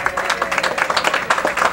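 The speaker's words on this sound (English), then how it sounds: "getting a round of applause as always" A studio crowd at a bowling show applauds the scorekeeper, a moderately loud stretch of dense, steady clapping.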